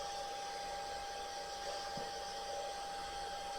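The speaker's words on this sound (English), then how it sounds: "I did use a handheld dryer just to see how she would do this time." A steady, constant whir of a handheld hair dryer running at a fairly low level while grooming a nervous Persian cat, unbroken throughout.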